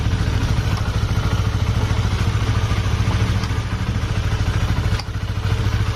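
A motorcycle engine idles loudly and close with its exhaust hole covered, a steady, even chugging rumble that continues throughout with a brief dip near the end.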